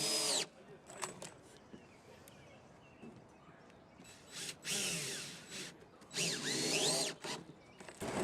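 Power drill driving extra fasteners into the wooden decking of a homemade barrel raft, several separate bursts of whirring spaced across the clip, fairly close, with quiet gaps between them.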